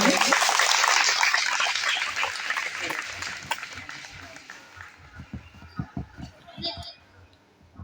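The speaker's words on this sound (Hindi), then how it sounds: "ताली बजाएंगे।" Audience clapping at a Christian prayer gathering, a dense burst of applause that swells loudly at first, then thins into scattered claps and fades over several seconds.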